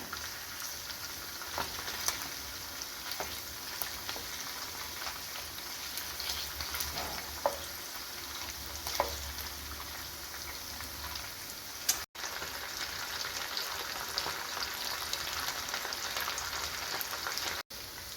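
Fish fried with green peppercorns sizzles steadily in a pan, a dense crackling hiss with occasional spits and faint stirring scrapes, heard close and continuous without talk.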